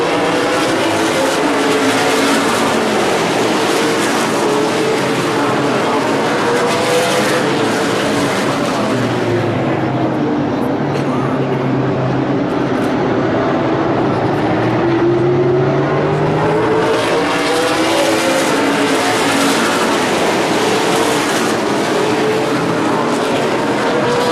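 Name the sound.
super late model race cars racing at Evergreen Speedway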